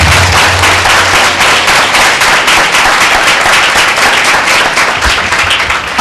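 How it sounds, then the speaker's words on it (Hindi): A church congregation at a Sunday meeting claps loudly and steadily for the full stretch, a dense wash of applause with no talk over it. "क्या जोरदार ताली दे परमेश्वर को।"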